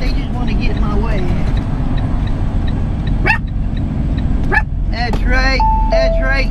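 A dog barks a few sharp times over a steady rumble of traffic, while a person talks nearby.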